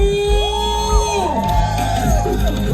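Loud whoops, ululating cries and cheers rise from a crowd of wedding guests, a short lively burst of celebration with voices overlapping.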